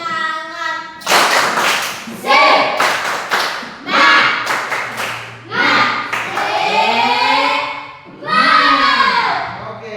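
A classroom group claps out a rhythmic cheer pattern in unison, sharp bursts of synchronized claps separated by short pauses, with children's voices chanting and calling between the bursts.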